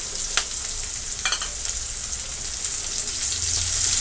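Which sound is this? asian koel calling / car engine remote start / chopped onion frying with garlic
chopped onion frying with garlic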